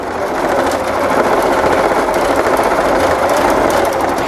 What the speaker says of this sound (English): this is actually a pretty quick stitch on this satin stitch